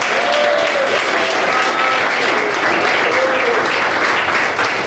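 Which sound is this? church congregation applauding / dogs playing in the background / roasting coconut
church congregation applauding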